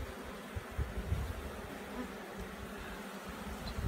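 Honey bees buzz steadily around an open hive during a swarm trap colony inspection, a dense, continuous hum that stays fairly faint and even throughout, with no speech.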